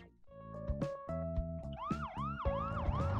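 A looping police siren from the LEGO Juniors Create & Cruise game wails in repeated rising-falling sweeps over cheerful game music, loud and close, with no talking.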